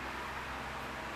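A Panasonic F-409LS inverter electric fan runs at maximum speed, giving a steady, broad, close airflow whoosh with no talk.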